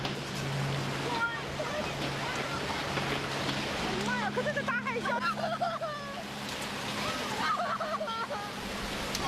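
Raging floodwater surges and crashes, a dense roaring wash of waves that holds throughout while a person talks over it.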